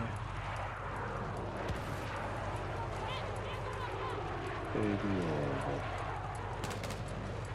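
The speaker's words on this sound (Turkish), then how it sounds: "Helikopter." A helicopter in the video game Battlefield 6, a steady low droning rotor hum running beneath people talking and other battle noise, with a brief louder burst partway through.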